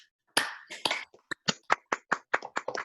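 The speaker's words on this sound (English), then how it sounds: "So can we all clap?" A small audience at a lecture on North American Indigenous history claps in a loose, uneven burst: a few scattered claps at first, then a quick run of distinct, close hand claps from several people.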